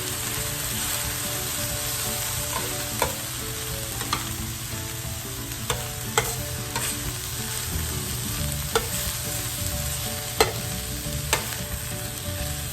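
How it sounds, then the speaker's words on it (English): Meat and vegetables for a Philly cheesesteak sizzle steadily in a hot pan while being stirred together, with sharp spatula clacks against the metal every second or so; no talking. "So now we're gonna go ahead and mix this all together."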